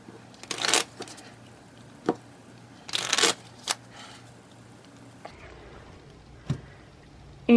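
A deck of playing cards riffle-shuffled several times by hand during a card game, two loud bursts of flapping cards with quieter taps and handling between them, close up.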